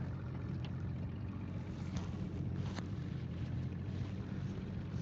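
Boat out on a reservoir, a steady low rumble of engine and water under constant wind buffeting the microphone, with no voices.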